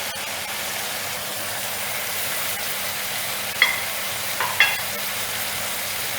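Cabbage, capsicum, carrot, onion and tomato stir-fried for chicken chow mein, a steady broad frying hiss throughout with a couple of brief clinks of a utensil near the end, no talking.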